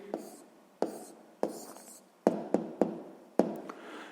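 A pen scratches out an answer on paper during sixth-grade maths homework: about eight short, crisp strokes and taps in an uneven rhythm, close and quiet, with no talk.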